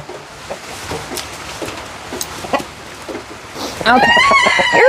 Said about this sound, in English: Flatfoot is an Americana rooster